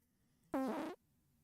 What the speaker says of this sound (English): Some electronic, like, squeaking out a fart.